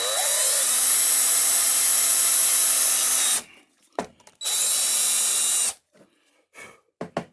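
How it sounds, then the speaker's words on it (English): A power drill whines steadily for about three seconds boring a hole in wood, stops briefly amid a few clunks, then drills again for another stretch before falling quiet with scattered knocks. "drill our hole"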